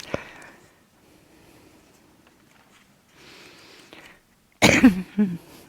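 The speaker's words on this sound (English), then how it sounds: "The frequencies kick up the coughing sometimes." A person coughs in a quiet indoor setting: one short cough at the start, a soft throat-clearing in the middle and a loud burst of two or three coughs near the end.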